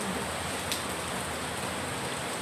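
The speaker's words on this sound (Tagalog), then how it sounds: "Ang lakas ng ulan," Heavy rain falls steadily on a morning, a continuous dense hiss of drops without pause, close and fairly loud with no voices.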